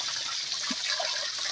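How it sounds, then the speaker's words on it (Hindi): Water gushing and spraying from a newly bored 2-inch well, a steady broadband rushing wash that holds constant throughout with no voices. "अच्छी तरह से ये पानी निकल रहा है।"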